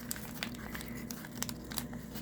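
Material is crinkled and crumpled while being wrapped tightly around itself to form a poppet's neck, giving soft, continuous rustling with small crackles throughout, fairly quiet and close.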